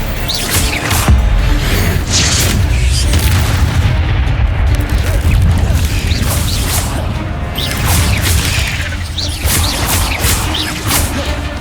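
Spell-casting effects from the Hogwarts Legacy video game during a duel, with repeated booming blasts, whooshes and crashing impacts forming a loud, dense, continuous barrage of magical combat.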